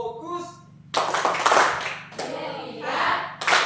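In a classroom, a group claps in rhythmic bursts as part of a focus chant, three loud sharp rounds of hand clapping separated by short pauses, mixed with chanting voices.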